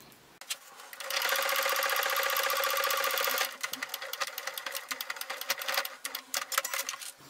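A sewing machine stitches a short seam through quilted fabric for a zippered multi-pocket fabric purse, giving a fast steady mechanical whirr, then a choppier run of uneven stitching bursts, close and without speech.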